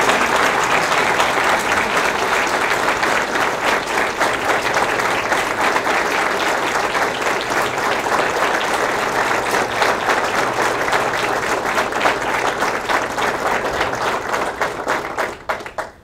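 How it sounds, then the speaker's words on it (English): Loud, sustained applause from a large crowd at a medical school groundbreaking ceremony honoring Dr. Mario Ramirez, a dense even roar of clapping lasting about fifteen seconds before abruptly thinning out. "Let's give him a big applause."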